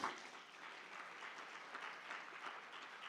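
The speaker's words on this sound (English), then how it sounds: "let's give a huge round of applause to him" A large audience in a conference hall claps steadily, a continuous even wash of applause heard from a moderate distance.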